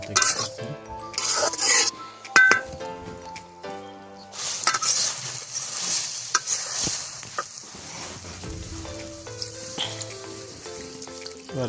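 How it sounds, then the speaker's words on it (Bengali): A Bangladeshi village-style pan of puti fish curry with potato, eggplant and pumpkin bori being sautéed, with metal spoon scrapes and clinks against the pan over a soft sizzle, in loud irregular bursts. "আমাদের কষানো শেষ পর্যায়ে চলে এসেছে, দেখতে পাচ্ছেন।"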